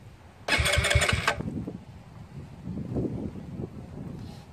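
A Znen ZN150T-9 GY6 150cc scooter engine starts: a short electric starter crank whine, then the engine catches and settles into a low, uneven idle, close and moderately loud.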